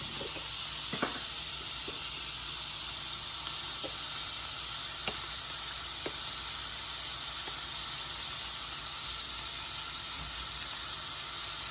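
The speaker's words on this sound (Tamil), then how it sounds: "நெய் போட போகிறோம்." Cow ghee sizzles in a pan while fried rice is being made, giving a steady, even hiss with a few faint ticks and pops scattered through it and no talking.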